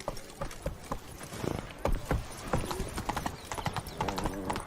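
Quick, close hoofbeats of a galloping horse in The Witcher 3: Wild Hunt drum rapidly and loudly, with faint snorts and game ambience.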